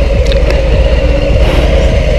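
A 2021 Harley-Davidson Low Rider S pulling onto the road, its engine a loud, close, steady low rumble with a deep throbbing tone throughout, no talking over it.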